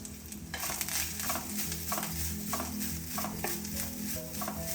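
Grated coconut and spices roast in a hot pan with a steady frying crackle, broken by repeated scrapes and light clinks of a spoon stirring, close and continuous.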